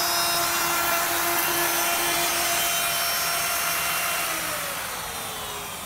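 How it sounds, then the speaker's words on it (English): A router fitted with a Whiteside multi-rabbet bit cuts a 1/8 inch rabbet in a workpiece, a loud continuous whine that holds steady before easing slightly toward the end. "I'm setting up my Whiteside multi-rabbet router bit set"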